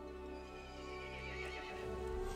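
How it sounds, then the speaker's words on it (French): A horse neighs loudly in the intro of the horror video game Resident Evil Village: one long, close whinny over a low ambient drone, with faint hoof clops near the end. "Le cheval se mit en colère et appela les autres monstres."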